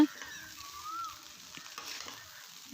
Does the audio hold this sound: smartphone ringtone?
no